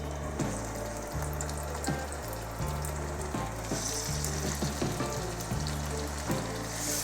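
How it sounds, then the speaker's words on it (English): Marinated chicken sears in a crowded frying pan for an Asian-style garlic and chilli curry, a steady loud sizzle with spatters and occasional scraping stirs throughout. "what I'm going to do now is seal this chicken we previously marinated"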